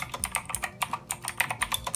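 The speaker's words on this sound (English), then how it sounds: "And the keyboard sounds really nice as well." Quick, steady typing on an Eagletec KG011 white mechanical keyboard, with crisp, closely spaced key clicks heard up close and alone.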